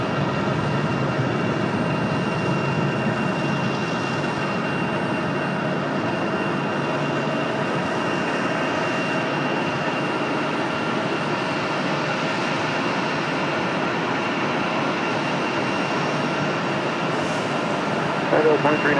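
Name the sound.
airplane taking off at Raleigh Durham airport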